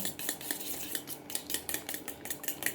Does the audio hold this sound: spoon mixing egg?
yes